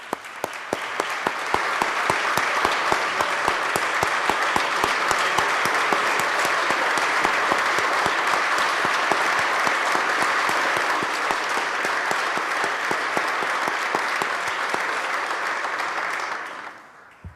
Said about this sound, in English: let's give a big round of applause to everybody here